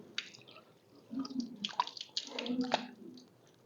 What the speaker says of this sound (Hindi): दाईं कोहनी पे पानी डालना है